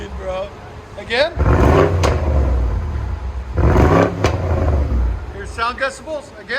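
Two loud, sustained revs from a 2019 BMW M550i's 4.4-litre V8 with resonator-deleted dual exhaust roar up close, each with a sharp crackle as it drops back, while people chat before, between and after them.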